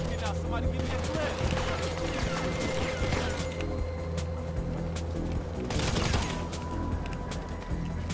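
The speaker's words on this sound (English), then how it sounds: "Oh, crap, we're getting shot at." Gunfire erupts in a GTA V Online match, rapid bursts of shots and booms layered with engine noise, while players talk over the action.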